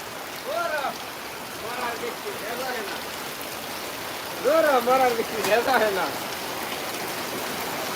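Heavy rain falls on the Gabtoli cattle market, a steady broad hiss with tonal calls breaking through in short clusters, moderately loud and continuous.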